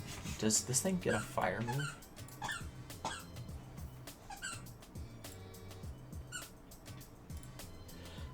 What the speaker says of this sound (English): Please excuse my dogs in the background.